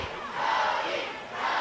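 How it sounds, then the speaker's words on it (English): Fans at a summer collegiate baseball game chanting a player's name in rhythmic unison, a loud crowd swell that dips briefly and rises again. "Crowd chanting the name of Brody Done"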